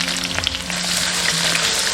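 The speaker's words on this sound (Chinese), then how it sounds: "把香菇炒香" Shiitake mushrooms stir-fry in hot oil with scallion and ginger, giving a loud, constant close sizzle with faint scraping as they are tossed in the pan.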